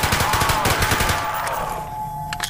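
Rapid automatic gunfire from Call of Duty: Black Ops Zombies on PC, a loud sustained burst of fast shots that trails off into a lingering tone near the end.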